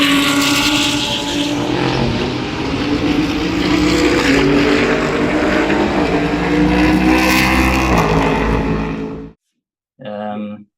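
A Ford Mustang GT3 race car engine roars loud and continuous for about nine seconds, a dense racing drone with rising and falling revs, then cuts out before a brief burst of speech.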